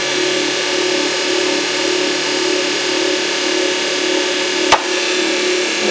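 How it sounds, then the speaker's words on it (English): Electric motor of a motor-generator loop running under load, a steady loud whine and hum with constant tone throughout, broken by a single sharp click near the end. "you can actually hear the motor pick up speed when I switch the load on"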